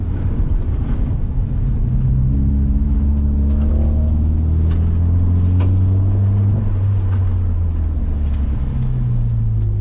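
An autocross car at an SCCA event pulls loud and close, its engine revving hard under throttle with rising and falling pitch sweeps as the driver lifts and gets back on the power, a steady roaring drone throughout.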